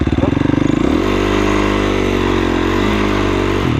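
Dirt bike or motard engine running loud and close, a pulsing rev that settles into a steady high drone, with the rider's voice faint underneath.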